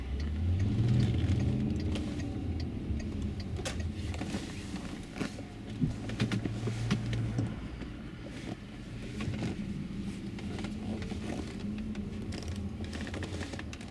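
A Volkswagen Touareg V8 4.2 FSI with an LPG gas system fitted drives on petrol. A steady, loud low engine and road drone continues without a break, with small thumps and rattles from the cabin.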